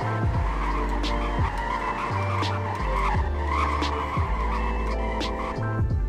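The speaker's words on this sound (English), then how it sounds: "That was the braking test." Car braking hard in the Roblox game Greenville, a sports car topping out near 240 mph, with loud continuous tire skidding and engine tones that repeat in several braking passes over six seconds, no talk.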